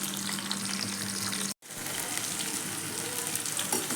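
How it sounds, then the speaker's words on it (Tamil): Onion and garlic sautéing in a pan for vatha kuzhambu, a dense continuous sizzle close to the mic with a brief dropout midway and faint stirring, no talking. "நல்ல வெங்காயம் பூண்டும் நல்லா வதங்கட்டும்"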